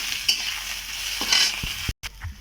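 Green chili and sliced onion frying in mustard oil with a steady sizzle, broken by a few sharp stirring scrapes and clinks of a utensil against the pan.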